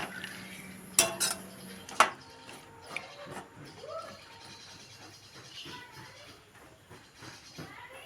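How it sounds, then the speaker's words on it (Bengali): Yardlong beans stir in a wok with water and salt, bringing a few sharp metal clanks of the utensil against the pan over a quiet bubbling background, with no speech. "নেড়ে চেড়ে ভাপিয়ে নেব।"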